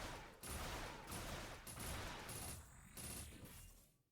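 A mecha in the Super Mecha Champion video game fires a rapid, sustained burst of gunfire, a dense rattling volley lasting several seconds before cutting off abruptly.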